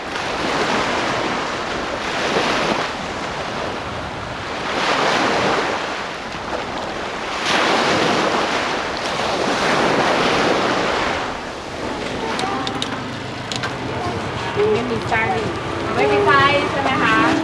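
Ocean waves wash onto a sandy beach in Pattani, Thailand, surging in broad, rolling swells every few seconds under steady wind rumble, with voices and other noise creeping in toward the end.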